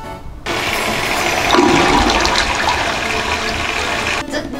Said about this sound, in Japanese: そういえばトイレ流す音怖い。